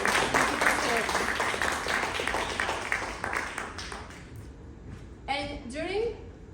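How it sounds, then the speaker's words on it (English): Audience applause at a branding presentation event in Łódź, Poland: dense clapping from the start that thins out over several seconds, with a speaking voice rising over the fading applause near the end. "A big applause."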